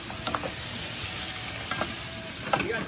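Mirepoix sizzling steadily in a hot pan during deglazing for braciola, a continuous close frying hiss with a few brief stirring scrapes near the start, middle and end, no talk.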